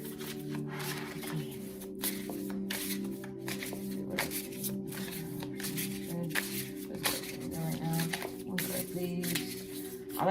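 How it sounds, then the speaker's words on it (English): Tarot cards being shuffled by hand: a steady run of soft riffling and papery slaps with rhythmic bursts, set over a continuous low humming bed, with no clear voice. "I like to shuffle until the card pops out."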